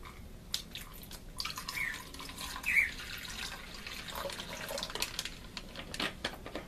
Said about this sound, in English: Cause I gotta put water in her bowl.